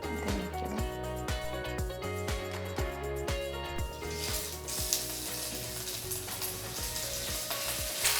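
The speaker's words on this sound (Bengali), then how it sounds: "বিফ ভাজা হতে হতে" Beef fries in hot oil with a crackling sizzle, punctuated by rhythmic clinks and scrapes of a utensil stirring in the pan, the spitting growing denser and brighter toward the end.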